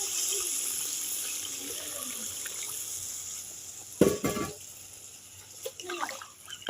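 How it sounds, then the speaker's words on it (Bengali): Water poured from a vessel into a cooking pan of Bengali fish curry, a short splashy gush around the middle after a quiet background hiss, then a few small clinks and splashes. "এবার আমি জল দিয়ে দেব। খুব বেশি জল দেব না।"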